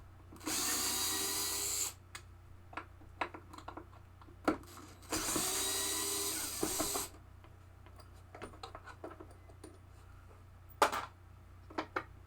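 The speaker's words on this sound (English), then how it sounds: "Now I'm taking the latches off the back box." Power driver backing latch screws out of the back box of a 1974 Gottlieb pinball head, in two long whirring bursts near the mic, followed by scattered light clicks and handling knocks.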